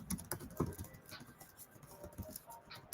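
Quick, light tapping on a computer keyboard that isn't the usual one, a steady patter of keystrokes heard close and quiet with no talk.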